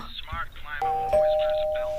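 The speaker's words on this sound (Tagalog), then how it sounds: "Grabe naman maka-doorbell, sagad-sagaran." A doorbell at a home rings twice in quick succession with sustained chime tones, following a stretch of talk at the start.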